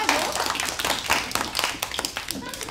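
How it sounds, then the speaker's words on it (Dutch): A small group at a primary school claps for a pupil, a thin patter of individual handclaps heard close with some talking over them. "Een applaus voor Wouter."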